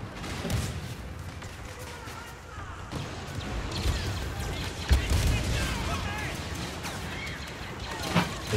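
Weapon fire in the Star Wars Battlefront video game, an ion torpedo among other blasts: repeated sharp bursts and crashes over a dense, continuous battle din, with someone talking throughout.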